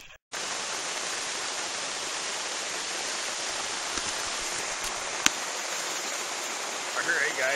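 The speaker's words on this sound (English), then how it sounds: "as you can hear, the storm is here. It's pouring really nice, hard." A heavy downpour from a storm hammers a tent tarp in a dense, unbroken roar, loud and close, with an occasional sharper drip or tap.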